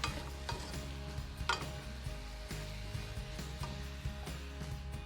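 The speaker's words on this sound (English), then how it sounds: "Give it a really good mix. Make sure you coat that beef really well with all the spices." Beef chunks being stirred in a pot to coat them with spices and onions, producing repeated scraping strokes and soft knocks over a low steady hum, close and fairly quiet.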